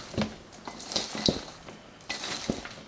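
Hot caramel corn stirred in a pan, heard as a few close scrapes, clinks and sticky rustles of a utensil against the pan, irregular and brief.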